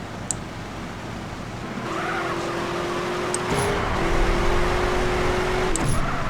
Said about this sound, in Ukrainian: Ми почуємо звук двигателя. Ну, двигатель реве.